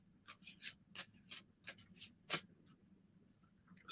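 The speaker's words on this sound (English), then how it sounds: "I'm shuffling my gentle thrill cards." Tarot cards shuffled close by in a quiet room: a string of soft, quick riffling and sliding flicks in irregular rhythm, faint and alone.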